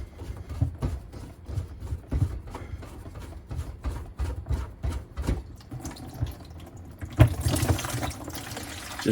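Water emptied from a sink P-trap into a bucket, irregular splashing and trickling pours in close bursts, louder and denser toward the end.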